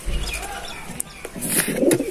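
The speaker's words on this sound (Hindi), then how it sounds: "और दोस्तों बाकी दोस्तों देखे आप लोग ये है सारे कबूतर," Several sick high-flyer pigeons coo softly in a loft, with low, rounded calls repeating unevenly under faint background rustling and no talking.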